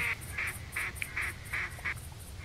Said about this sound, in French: Un appos pour appeler les canards quand ils sont loin.